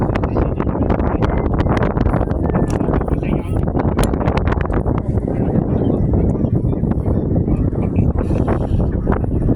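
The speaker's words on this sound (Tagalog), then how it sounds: "Sarap ng hangin." Strong wind buffets the microphone throughout in a steady, loud roar with gusty rustling, at The Peak in Hong Kong.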